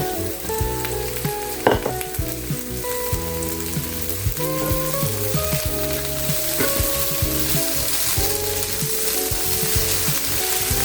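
Eggs and moringa (drumstick) leaves frying in a pan, giving a continuous close sizzle with occasional clinks and stirring knocks, and no voices over it.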